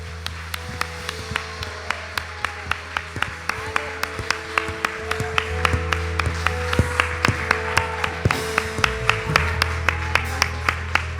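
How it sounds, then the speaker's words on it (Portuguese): Church congregation claps in steady rhythm, sharp evenly spaced beats running throughout over sustained low musical tones, with no talking. "Vamos aplaudir o Senhor."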